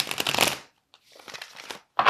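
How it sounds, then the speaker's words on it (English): A deck of tarot cards is shuffled by hand in short crisp riffling bursts, close up, with a pause between rustling passes. "I'm going to have to shuffle."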